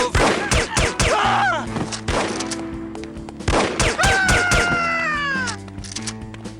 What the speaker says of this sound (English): I thought I heard gunshots.